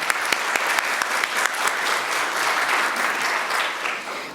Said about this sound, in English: So big round of applause for Macro.